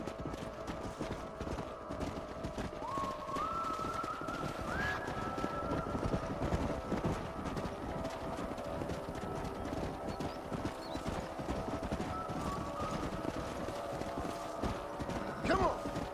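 Horses clip-clop at a steady trot with an occasional neigh in Red Dead Redemption, hoofbeats continuous over a noisy open-air game soundscape, with speech at times.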